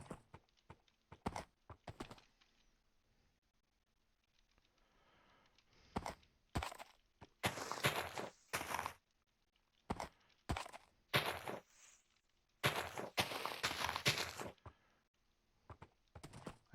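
Horse hooves from Minecraft gameplay, clopping in short, sharp bursts of several quick steps separated by pauses, fairly close and alone with no talk.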